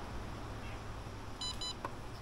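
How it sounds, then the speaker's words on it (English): Two short, high electronic beeps from a ZWO Seestar smart telescope powering on sound in quick succession over a quiet background hum. "Two beeps and then release."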